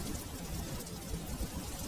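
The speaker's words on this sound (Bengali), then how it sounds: "বাইরে তো ঝড় বৃষ্টি কমলো না" Cartoon rain and storm outside, a steady, moderately loud patter of raindrops on surfaces with no voices over it.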